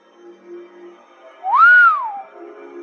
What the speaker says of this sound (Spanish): Seaton silbó.